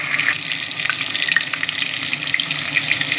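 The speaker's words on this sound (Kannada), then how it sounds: "ಇದನ್ನ ಈಗ ಸೋಯಾಬೀನ್ ಹಾಕ್ತೀನಿ" Soybean chunks fry in hot oil with tomato for a soybean biryani, making a loud, close, continuous hiss and crackle that carries on unbroken throughout.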